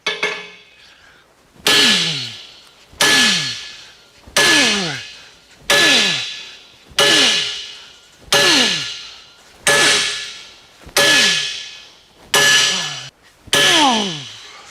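A hammer strikes a small fixed-base Hoyer vise during an impact test, giving ten loud metallic clangs at a steady pace, each ringing out and fading before the next blow.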